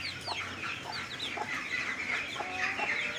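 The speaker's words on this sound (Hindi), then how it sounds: "ये हमारी मुर्गी ने चिक्स निकाले हैं" A mother hen with her newly hatched chicks clucks repeatedly in short, soft bursts, with faint chirping and farmyard background noise around it.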